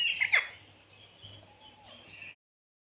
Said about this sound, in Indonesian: Burung Raja Perling ini mempunyai beragam suara, termasuk dengusan, siulan bernada tinggi,